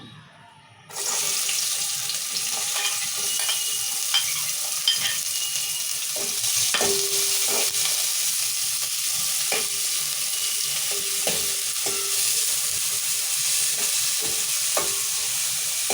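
Chopped onions hit hot oil for chicken curry and set off a sudden, loud, steady sizzle that runs throughout, with intermittent clinks of stirring.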